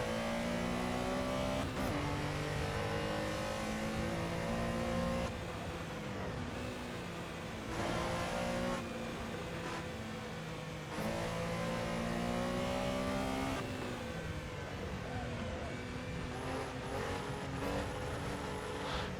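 A race car engine in a classic touring car racing game at Buenos Aires revs hard and accelerates, its harmonic drone climbing through the gears in repeated upshift sweeps, loud and continuous for the whole stretch.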